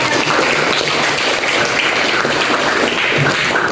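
Classroom applause from a group of students, a dense steady burst of clapping lasting several seconds, loud and close throughout.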